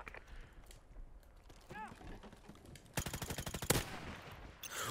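Rapid automatic gunfire in Call of Duty 4 Modern Warfare Remastered, a steady burst of sharp close shots on a ship map, preceded by quieter game sounds and followed by more distant firing.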